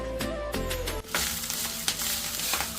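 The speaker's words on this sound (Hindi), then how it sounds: "इसमें हल्का तेल डाल के थोड़ा उसमें जीरा डाल के और मस्त करके छोंक दूंगा थोड़ा चावल को" Cumin seeds sizzle and crackle in hot oil, a steady frying hiss with a few sharper pops and stirring clatter, close by.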